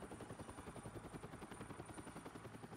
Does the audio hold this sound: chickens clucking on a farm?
no